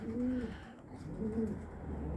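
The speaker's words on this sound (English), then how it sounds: "young pigeons" Young pedigree pigeons coo softly and close by in two low, rolling phrases about a second apart, with a faint background hum between them.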